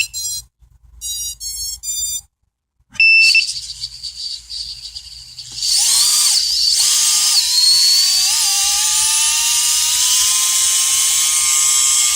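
A small brushless RC motor runs in a micro car: brief chirps and beeps first, then a loud, steady high-pitched whine that rises and holds, with small pitch shifts as it spins up.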